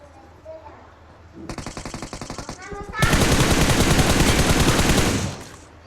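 Video game gunfire ending in a headshot: a quick rattling burst of automatic fire is followed by a longer, louder, continuous stream of rapid shots that stops abruptly.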